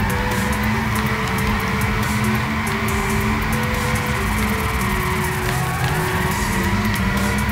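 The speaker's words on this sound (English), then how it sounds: "on the next corner, the left hand rear, I'm going to completely select the back end out" A car drifts in the Gran Turismo 6 racing game, its engine droning loudly under a sustained tire squeal that wavers in pitch as the back end slides out, steady and continuous throughout.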